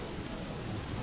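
Steady rain falls as a soft, even wash of noise, fairly faint and unbroken over a brief moment.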